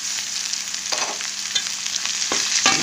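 Mutton pieces frying with sliced onions in a pan for a mutton and brinjal curry, a constant close sizzle broken by a few sharp scraping stirs, no talking.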